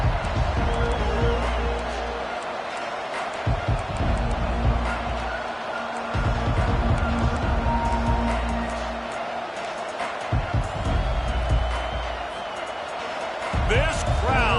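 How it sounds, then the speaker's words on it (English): A stadium crowd at a football game roars and cheers at full volume through the whole stretch, a dense, continuous wall of noise with occasional sharper bursts and a commentator talking over it. "This crowd, full throat, splitting the eardrums and letting them know it's going to be a long day."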